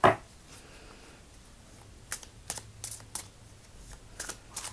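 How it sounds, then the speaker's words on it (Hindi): Tarot cards picked out and handled during a Hindi love reading, giving several soft, brief papery flicks and shuffles spaced across the moment, fairly faint and close, with no talk over them. "we pick out some cards here"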